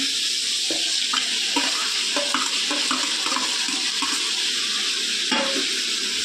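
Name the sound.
chopped tomatoes added to frying pan and stirred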